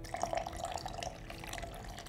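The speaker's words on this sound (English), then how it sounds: "we're gonna go ahead and pour our cold water on top" Cold water pours onto cowboy coffee grounds on a hiking trail, a faint, steady trickle and splash that runs without a break, with no voices.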